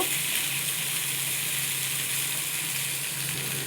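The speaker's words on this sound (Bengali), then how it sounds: "কুমড়ো আলুটা আমি হালকা করে একটু ভেজে নেব" Pumpkin and potato pieces fry in oil in a pan, giving a steady, even sizzle with a faint low hum beneath and no talk.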